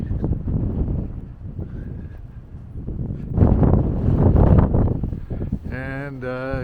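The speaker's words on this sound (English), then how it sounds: "And, yeah, windy." A blustery winter wind blows outdoors on a snowy day, with rough gusts buffeting the microphone. The wind swells and eases under a man's speech, and a dog's voice is heard briefly near the end.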